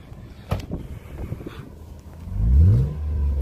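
A Lexus IS300 with a five-speed manual gives a short engine rev that rises in pitch and swells loud near the end, following some faint background noise.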